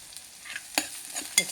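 Sliced onions with turmeric fry in a pan for a colocasia (arvi) pulusu, with a soft sizzle broken by a few sharp scrapes and taps of a stirring spoon, close and without talk.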